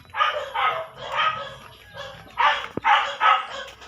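Dogs bark in repeated bursts nearby along a small path on the way to a market, four or five loud barking bouts with short pauses between them.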